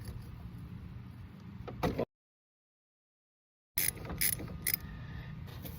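A 14 mm socket wrench works counterclockwise on the pulley nut of a Husqvarna HU700H mower while pliers hold the part, giving close mechanical creaks and ratcheting clicks in two bursts split by a sudden stretch of silence.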